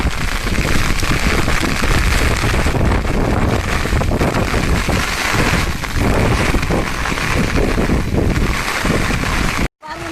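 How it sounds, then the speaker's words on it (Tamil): Strong wind during a heavy rainstorm roars and buffets loudly and continuously, with rushing gusts that briefly cut out near the end. "என்கிட்ட காற்று பயங்கரங்க"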